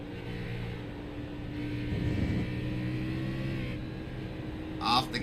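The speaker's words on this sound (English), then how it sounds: "Take a look inside of Bryce Hunter's car. Hear him get on the gas." An Xfinity Series stock car heard from an onboard camera, its engine droning steadily and swelling as the throttle opens, loud and close, with a commentator talking over it.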